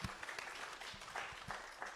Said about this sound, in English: Please, let's give a round of applause